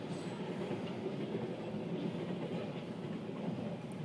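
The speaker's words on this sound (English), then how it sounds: "Look at them trains go, man, they're all over the place." A long freight train passes on the track in Biloxi, giving a steady, loud, continuous rumble with a clickety-clack of wheels and no voices.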